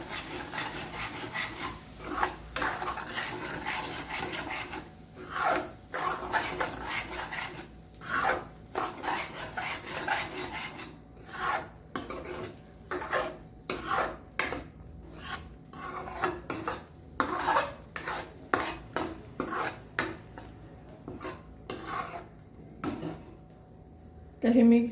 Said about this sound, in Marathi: आता आपण हे मिक्स करून घेणार आहोत.